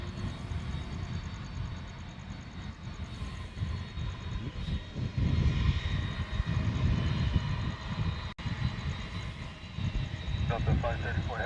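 A tri-jet airliner's engines at Honolulu airport at night, a continuous deep, roaring rumble heard from a distance, with faint voices beneath it.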